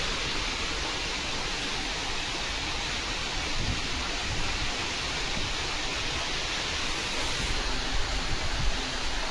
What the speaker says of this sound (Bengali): এইভাবে বৃষ্টি দেখতে খুব ভালো লাগে, বা জানলাটা দিয়ে দিতে হবে, ঝাপটা আসছে